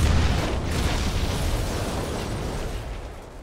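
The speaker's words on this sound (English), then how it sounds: "My ship got destroyed by space monsters." A spaceship blows up under attack by space monsters in Galactic Civilizations III, a loud broad explosive burst that fades into a rumbling roar over a few seconds, with no talking.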